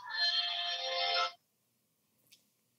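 A phone ringtone sounds as a bright, steady electronic melody for just over a second, then cuts off abruptly, leaving near silence broken by one faint click.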